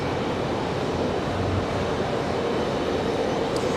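A UPS heavy cargo jet taking off from runway 23 right at Louisville, a loud, steady low roar of engines heard from a distance without pause.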